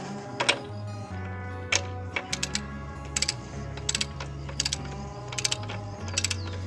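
Ratcheting clicks come in short irregular bursts as a bolt is tightened to 80 lb-ft with a torque wrench while fitting a Kawasaki Versys 650 chain and sprocket kit, over a steady low mechanical hum.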